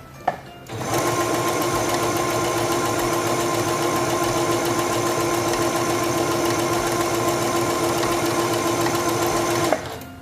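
A Singer 7258 computerized sewing machine runs a serpentine stitch with a loud, steady, rapid mechanical whir for about nine seconds, starting and stopping abruptly, and nobody speaks.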